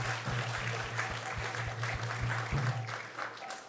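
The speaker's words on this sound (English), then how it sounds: "So let's give them a big round of applause too." A crowd at a Krishna talk applauds steadily, moderately faint, with a low hum running underneath and a few louder individual claps.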